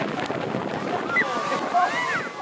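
Heavy roaring water and gusting wind surround a tour boat heading into Niagara's Horseshoe Falls, a constant loud wash with faint whistling tones riding over it.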